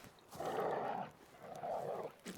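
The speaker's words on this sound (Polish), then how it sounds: "Rzeczywiście miłe pieski." Dogs in the video game The Witcher 3 give two low, sustained growls in quick succession, close and fairly loud, with no speech over them.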